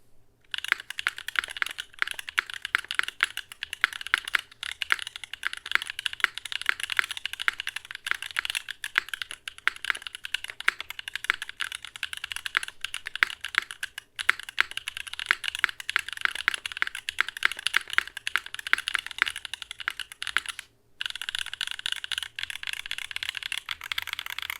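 Typing on tactile Akko Creamy Purple Pro keyboard switches gives a continuous run of quick, close clacks in a steady rhythm, with a short pause near the end and no talking.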